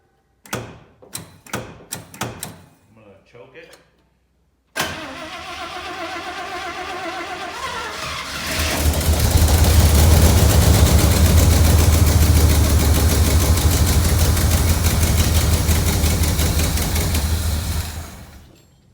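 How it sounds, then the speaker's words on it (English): A 1967 IH Loadstar 1600 truck engine during an overhaul, heard first as several short cranking bursts, then catching and settling into a steady, loud, rumbling idle that continues to the end. "I'm gonna crank over to get gas up there first"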